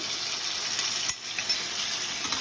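Ginger-garlic paste and ground coriander-cumin are stirred into hot oil for a katla fish curry, producing a soft steady sizzle broken by a brief spoon scrape and a couple of light knocks.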